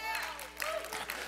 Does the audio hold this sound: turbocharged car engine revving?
no